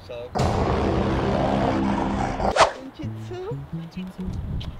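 Dogs bark and yip at a park in Monterrey, a dense burst of loud barking up front, then scattered higher yelps and whines while people talk nearby.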